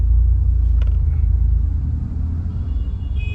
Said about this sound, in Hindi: अभी थोड़ा सा भाई ट्रैफिक था